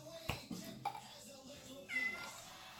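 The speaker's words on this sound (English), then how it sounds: "ignore my cat" A pet cat meows a few times in a kitchen during cooking, close by but fairly soft, mixed with clattering and other household noises.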